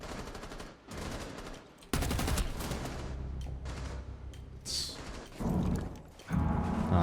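Gunfire rattles through a Rainbow Six Siege match, with bursts of rapid shots coming in several loud clusters broken by brief quieter gaps.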